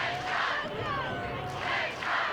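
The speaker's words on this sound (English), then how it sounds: "Mesa crowd urging on the Rams to try and tie here in the 7th." A home baseball crowd at Mesa cheers and shouts for the Rams during a late-inning CIF Division 1 championship game. The crowd roar is steady and moderately loud, with swells of yelling that rise and fall over the couple of seconds.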